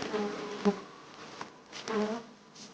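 Honeybees buzz during a hive inspection on a rural homestead, a steady close drone with individual bees whining past now and then, with no one talking.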